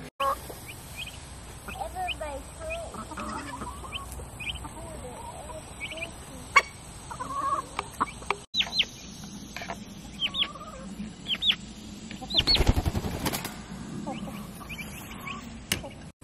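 Backyard chickens clucking around a small coop on grass, scattered soft clucks and chirps through a quiet outdoor scene, with a louder burst of rustling noise partway and faint voices.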